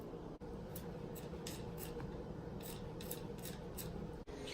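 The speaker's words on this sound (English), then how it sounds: "I'm halfway done peeling the potatoes." Potatoes are peeled over a trash can, giving a faint, repeated scraping rasp in short strokes over a steady low background hiss.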